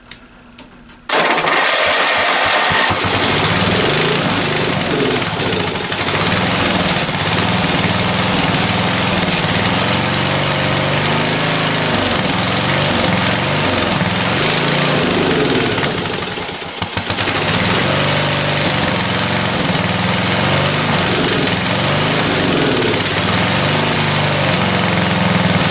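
An old lawn tractor engine catches after choking and runs loud and rough, a dense, unbroken roar close by that carries on steadily for the rest of the time.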